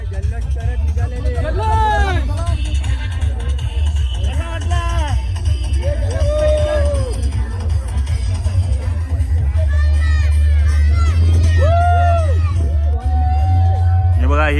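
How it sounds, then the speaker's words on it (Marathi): A crowd celebrates at a Holi procession in Apta Koliwada, with dense festive babble, whoops and shouts over a steady loud low rumble, continuous and close throughout. "हा बघा जल्लोष करत निघालेले."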